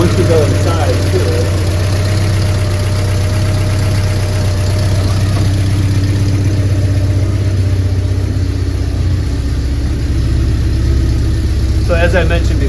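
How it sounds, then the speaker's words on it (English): From inside a Porsche 944 with freshly replaced motor mounts, the engine idles as a steady, muffled low drone throughout, with a faint shift in tone near the end. "you can feel the idle of the car"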